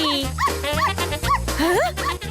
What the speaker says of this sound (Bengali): good doggy